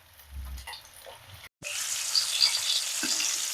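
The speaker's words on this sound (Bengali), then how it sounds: "তেলটা হালকা গরম হয়ে যেতে আমি আলুগুলো দিয়ে দিচ্ছি, দম লাগিয়ে ভেজে নেবো এগুলো" Small potatoes dropped into lightly warmed oil for Kashmiri aloo dum burst into a steady, bright sizzle after a brief gap. The frying continues close and loud without talk, following some quieter kitchen handling at the start.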